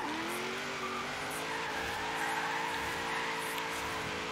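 A Land Rover Series III drifts in Forza Horizon 3, with a steady engine drone and continuous tire squeal running throughout at a constant, close, loud level.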